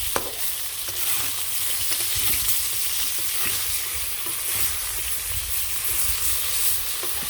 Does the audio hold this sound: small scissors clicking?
no